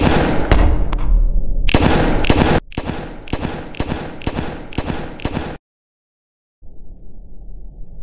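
Guns fire in the video game Melon Playground: a loud, close string of about eight sharp blasts in quick bursts, then a sudden silence, then a low rumbling tail. No one speaks.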